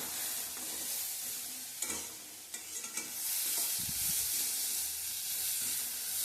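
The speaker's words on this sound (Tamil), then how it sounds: "அதே போல் ஒரு இஞ்சி இஞ்சியும் சேர்த்துக்கிறேன். சேர்த்துட்டு வதக்கி விட்டுலாம்." Garlic and ginger fry in a pan with a steady, soft sizzle, while a spoon stirs with a few scrapes and taps partway through.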